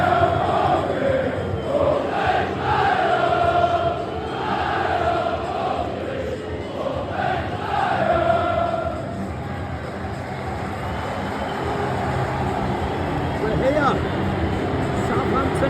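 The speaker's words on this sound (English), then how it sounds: "Hear the boos from the Saints fans already because of that crowd there of blue supporters" Large stadium crowd at the Southampton v Portsmouth South Coast derby, a continuous loud roar of fans with booing from Saints supporters aimed at the travelling Portsmouth end, sustained throughout.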